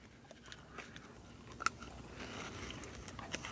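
Biting and chewing a crunchy Reese's peanut butter cup, heard as a faint, close crunch followed by soft, ongoing chewing and munching noises, with no talking.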